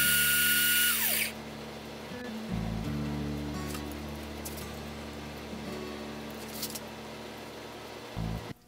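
Black & Decker 7980 drill sharpener grinding a drill bit: a loud steady whine at the start cuts off after about a second, followed by a low motor hum with brief grinding bursts, with no talk.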